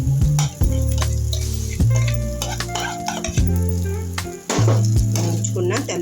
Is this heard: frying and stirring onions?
yes